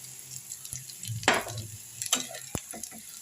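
Black pepper and cumin frying in a pan over browned shallots for a banana-stem peanut chutney. Quiet crackling sizzle with a few sharp stirring scrapes and clicks, all brief.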